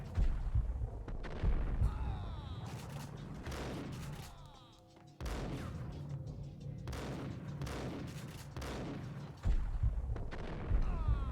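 Loud shotgun blasts in the Max Payne video game, several heavy booms spaced a few seconds apart, each with a ringing tail, set among other gunfire and action noise.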